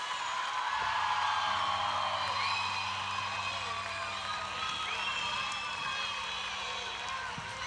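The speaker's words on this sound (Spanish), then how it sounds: "Fuerte, fuerte ese aplauso para Pimpinela, por favor." A crowd cheers, whoops and applauds for the duo Pimpinela at an outdoor anniversary celebration, a continuous roar of cheering with scattered yells and voices mixed in.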